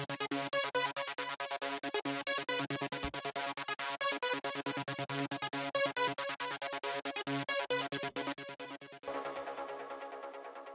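Bright old-school trance synth arpeggio with the bass cut away and the highs boosted by EQ, a rapid steady stream of notes playing loudly and alone before shifting to a thinner wash near the end.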